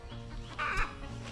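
Small chicken making a brief, faint cluck close by, set against a low background hum.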